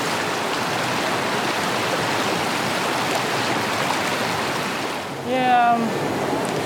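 A strong river current rushes continuously in a broad, steady roar. A voice briefly sounds over the water near the end.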